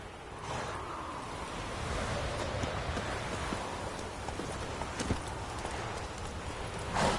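Horse hooves clip-clop in a video game with a steady, fairly quiet rhythm over soft background noise, ending in a brief sharper thump.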